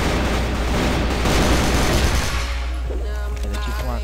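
The KAC Chainsaw machine gun in CrossFire fires a continuous, heavy automatic stream for about two seconds, then stops, leaving a low hum and faint game effects.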